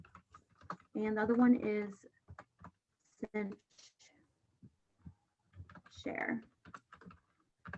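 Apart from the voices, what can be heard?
typing on a computer keyboard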